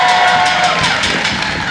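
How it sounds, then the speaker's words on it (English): A crowd at an outdoor White House summer evening gathering applauds to welcome new interns, dense sustained clapping with some cheering, loud and continuous throughout. "Let me also give a big round of applause and welcome to our new White House interns"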